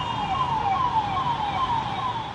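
Ambulance siren wailing during the COVID-19 pandemic, a clear repeating falling tone cycling steadily over faint traffic rumble, moderately close, with no talk.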